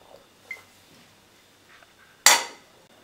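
A wok or kadhai clanks once on a stove, a single sharp metallic knock with a ringing decay, after faint softer handling clinks; no talking.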